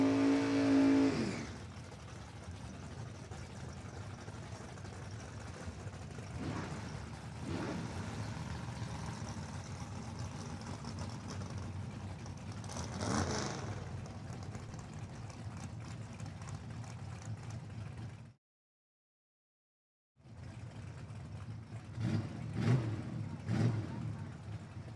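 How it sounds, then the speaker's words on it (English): A big-block 1967 Camaro drag car idles and rumbles steadily at a drag strip, a continuous engine drone with a brief cutout, under a track announcer's talk. "Scotty rolling up out of Corcoran, the very cool 67 Camaro"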